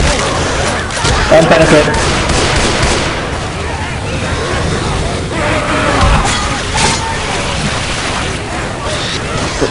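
Continuous gunfire from Left 4 Dead 2 on the Cold Stream map keeps up a dense, loud, noisy barrage throughout, with someone talking over the shooting.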